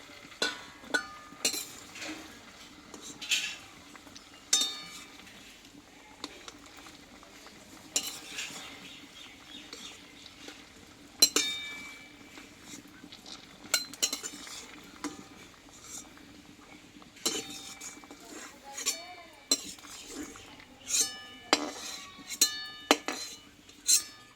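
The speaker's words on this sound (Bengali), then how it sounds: "এবার আমি এটা তুলে নেব এই ছাঁকনিটা দিয়ে আমি তুলে নেব সবটা" A metal strainer scrapes and clinks against a wok while softened papaya is scooped out, with repeated light metallic taps and clatter over a faint background hiss.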